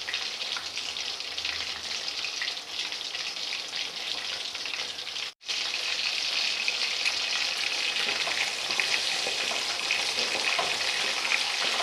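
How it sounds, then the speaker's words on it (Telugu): Chicken pakoda deep frying in hot oil on a low flame, a dense, steady crackling sizzle, close and continuous, with one momentary cut partway through. "స్టవ్ని సిమ్లో పెట్టుకొని బాగా డీప్ ఫ్రై చేసుకోవాలి."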